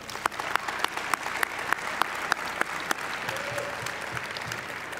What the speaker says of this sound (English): Round of applause for Sterling Paulson.